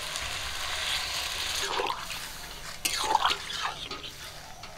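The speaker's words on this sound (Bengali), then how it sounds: "মাংসগুলো কষানোর জন্য জল দিয়ে দেব।" Water splashes and gurgles into a hot pot of spiced duck meat in a couple of short pours over a background sizzle, fairly close and without talking.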